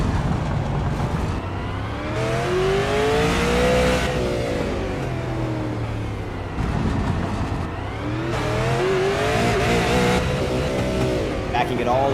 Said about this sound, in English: See how high he revs it up